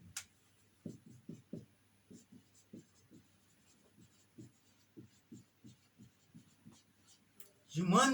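Marker or chalk strokes on a board in a social studies lesson, a series of soft rhythmic scratching taps spread over several seconds, fairly close, ending in a louder burst of noise.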